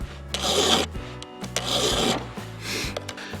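Hand file rasping across a badly damaged chainsaw chain during sharpening, three long scraping strokes in a row, close and fairly loud, with no talking.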